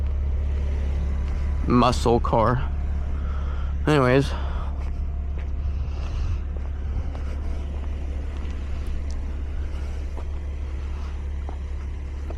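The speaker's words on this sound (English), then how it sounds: "In my V6 muscle car." A V6 muscle car drives along with a steady low engine hum and wind buffeting, while someone talks over it near the start before the drone carries on alone.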